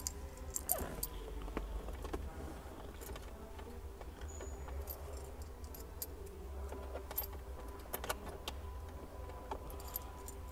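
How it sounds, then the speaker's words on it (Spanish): A key being inserted into the ignition of an Alfa Romeo Spider: faint light metallic jingles and small clicks over a low, quiet cabin hum, with no speech. "Vamos a meter la llave."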